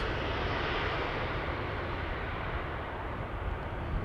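A KLM aircraft departs Amsterdam Schiphol Airport, its jet engine a continuous broad, rumbling roar that holds steady and heavy in the low end, heard from a distance without voices.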